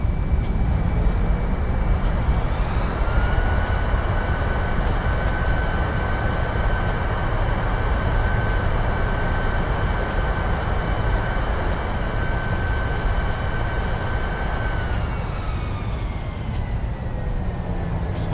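Thrust reversers roaring on a PMDG 900 jet landing in a flight simulator, a loud, steady broadband rush holding for about fifteen seconds with a high whine that fades as the roar eases.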